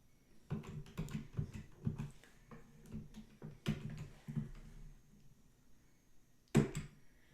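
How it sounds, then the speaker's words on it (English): Keys clacking on a computer keyboard while entering a formula in Excel, a sparse, irregular run of soft, close clicks with short pauses between them and one sharper tap near the end. "So we're going to type in false here."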